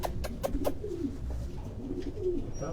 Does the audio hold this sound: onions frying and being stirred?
no